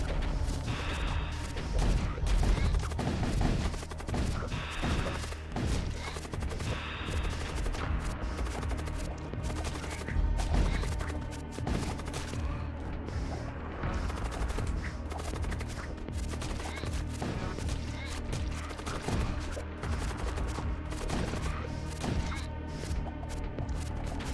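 Ship weapons unloading together in the space combat game Void War, a dense, continuous barrage of rapid gunfire bursts and heavy thumps that stays loud and unbroken throughout.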